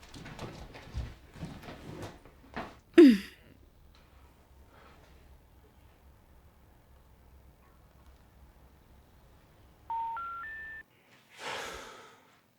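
A phone being dialed: three rising keypad tones in quick succession, faint and near, following earlier scattered rustling and a brief sharp sound, then a short burst of noise.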